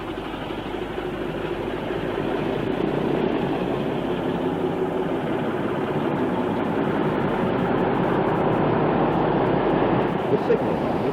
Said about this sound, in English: Another Class 26, this one departing from Dingwall for the Kyle.